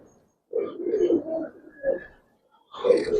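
Giribaz and coloring pigeons cooing in a few soft, low bursts with short pauses between them, close by and alone without talk.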